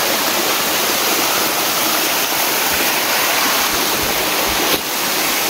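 A waterfall at Ananthagiri Hills roars in a loud, steady, unbroken rush of falling water that fills the scene, with no voices heard.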